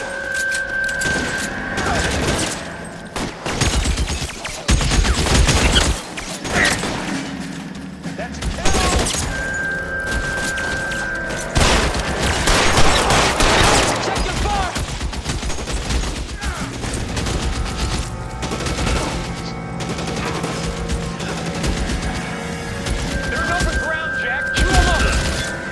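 A shootout in LA Noire, with rapid volleys of gunshots and crashing impacts rolling through a long firefight, mixed with shouted dialogue and tonal game sounds.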